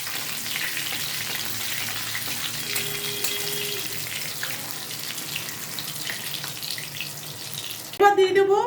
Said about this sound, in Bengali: এবার দিয়ে দেবো গোটা গরম মশলা।